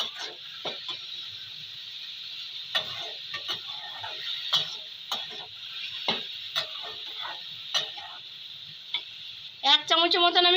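Onions and spices with salt sauté for a rui fish curry, a continuous bright sizzle with repeated clicking spatula stirs against the pan, and a voice briefly speaks near the end.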